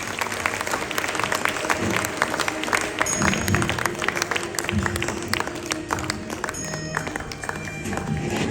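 Steady, dense applause from an audience at a book launch for an English-language book during an awards ceremony, continuous and fairly close with sharp clap transients throughout.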